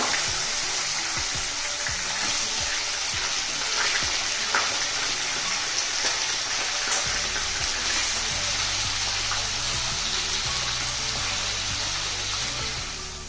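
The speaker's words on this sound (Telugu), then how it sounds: "ఈ విధంగా కలదిప్పుతూ వేయించుకుందాం గ్యాస్ మీడియం ఫ్లేమ్ మీదే ఉండాలి" Raw banana pieces fry in a pan over a medium flame with a loud continuous sizzle, broken by clinks and scrapes as the pieces are stirred, close up with no talk.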